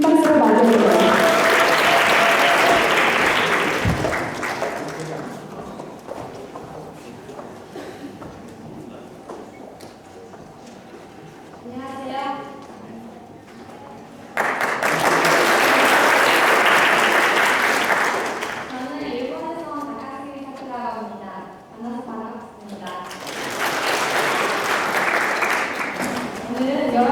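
Audience applause welcoming a contestant to the stage at a Korean speech contest in Toronto, a loud sustained burst of many hands at the start, then quieter speech, with two more swells of clapping later.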